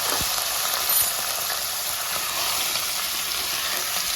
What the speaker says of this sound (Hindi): 1 टेबलस्पून तेल गरम करने मैंने रख दिया हुआ है। तो सबसे पहले मैं चिकन ऐड करती हूँ।